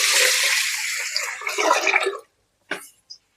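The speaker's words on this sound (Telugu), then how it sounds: "వాటర్ పోసుకొని" Water pours from a vessel onto basmati rice in a pot to wash it, a bright rushing splash for about two seconds, then a few short trickles and drips, with no talk.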